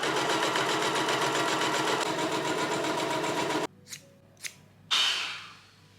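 A sewing machine runs steadily for several seconds, stitching a seam on a white shirt cuff, then stops; a few short clicks and a brief rustle of fabric follow.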